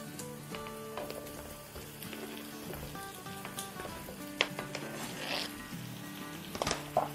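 Turnips sizzle and fry in a pan with onions, a soft steady crackle kept low under a musical backdrop, with a few sharper pops near the end.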